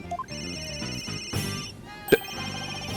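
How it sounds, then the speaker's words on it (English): A cell phone rings in the Ace Attorney: Dual Destinies video game, a repeating electronic ringtone melody of steady tones, moderately loud with a brief sharp click partway through. "Where's that ringing coming from?"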